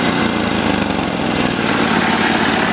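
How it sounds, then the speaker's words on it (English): A Simplicity snowblower engine runs at low speed, a loud, close, steady drone with a faint uneven pulse and no voices over it. "And there's low speed right there."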